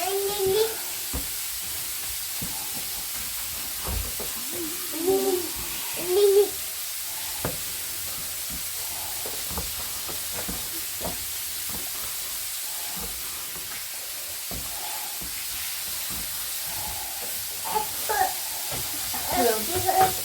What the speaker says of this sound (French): le bruit que vous entendez, c'est Fred qui est en train de cuire ses